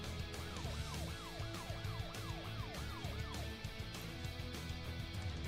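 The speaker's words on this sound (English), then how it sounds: "I'll hit the siren." A police car siren wails in a steady repeating up-and-down sweep, loud and close over a constant vehicle rumble, with no talking.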